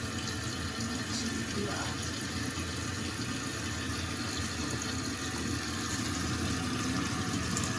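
A toilet tank refills after a new fill valve and flapper are fitted, giving a steady, continuous rush of water with no break and no talking.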